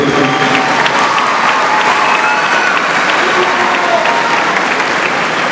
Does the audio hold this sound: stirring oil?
no